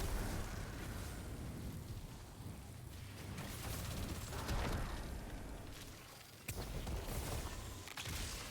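A Warlock's grenade in Destiny 2 is thrown and bursts amid a busy, muffled wash of game effects, with a sharp blast standing out near the end over a dense, rumbling background.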